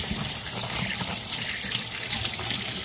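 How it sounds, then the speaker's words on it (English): Running tap water rinses a batch of freshly caught, still-kicking crabs, a steady broad splashing stream that stays loud and continuous throughout, with no talking. "I'm gonna have to rinse them off a little bit."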